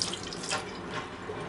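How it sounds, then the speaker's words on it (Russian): Water runs from a small washroom tap aboard a passenger train in a steady, soft stream, close by and fairly quiet. "И вода даже льется вот так вот"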